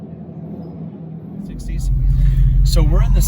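Dodge Charger EV Scat Pack with its artificial Fratsonic exhaust sound switched off, a low steady rumble that swells as the car gets moving, with a person speaking over it near the end.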